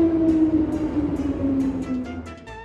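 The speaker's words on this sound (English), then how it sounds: "It is a subway train." Subway train travelling underground, a steady rumbling run with a sustained whining hum that stays fairly loud throughout, with no talk.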